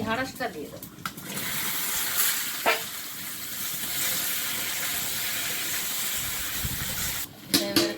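Panch phoron spices frying in hot oil make a steady, close sizzling hiss that holds for several seconds, with a few brief clatters at the start and end and a voice talking over the cooking.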